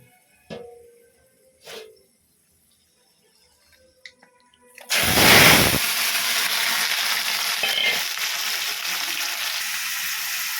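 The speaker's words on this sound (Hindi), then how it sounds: "चिकेन को अल्प समय तेल एमती फ्राए करदे" Chicken hits hot oil with a sudden loud sizzle after a few quiet clinks, then keeps frying in a steady crackling hiss for several seconds, close by and alone.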